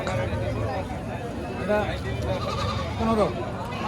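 Sheep bleat in a busy livestock market trading in Black Bengal and crossbred goats, several calls rising over steady crowd chatter and haggling voices, with one louder bleat near the end.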